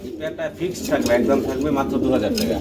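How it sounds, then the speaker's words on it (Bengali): Grizzle pigeons coo in soft, repeated low calls that overlap with a person talking nearby. "আপনারা দেখতে পাচ্ছেন গ্রিজেল কবুতর খুবই চমৎকার"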